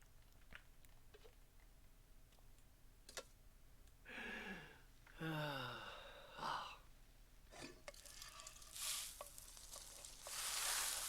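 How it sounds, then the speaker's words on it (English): Toast frying in a frying pan in a video game, with faint crackling sizzle and scattered clicks, interrupted by louder swooping effects and bursts of noise near the end, all quiet overall. "I don't know why you're putting the toast in the frying pan"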